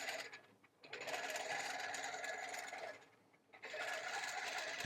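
Pro-Stitcher computerized quilting machine stitching a quilt, a steady close mechanical whir that runs, dips briefly around the one-second mark, drops off again near three and a half seconds, then resumes at full speed.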